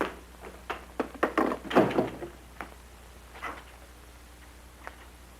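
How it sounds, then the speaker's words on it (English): A door in a home is pulled shut, giving a cluster of close knocks, bumps and a latch click, followed by a few fainter thuds and a last small tap, with no one speaking. "Close the door, Susan."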